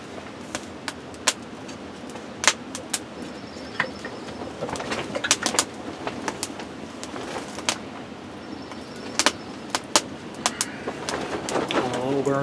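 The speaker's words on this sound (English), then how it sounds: "Little birds are out singing and chirping," Small songbirds chirp and sing in spring outside a back step, with sharp, scattered calls repeating throughout over a soft, steady outdoor hum, near and clear.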